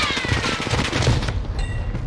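Rapid bursts of gunfire in the battle royale video game Survival in Caldera, a dense crackling fusillade for over a second that then cuts off, loud and close with no talk over it.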